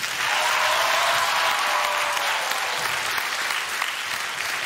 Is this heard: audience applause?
yes